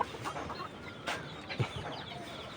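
Laying hens on a poultry farm in hot weather give faint, scattered clucks over a low background hiss, with a few slightly louder calls standing out.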